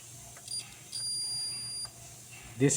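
A multimeter continuity test on a toaster cable sets off a thin, high electronic beep, first briefly and then held for almost a second, with a louder clatter of handling at the end.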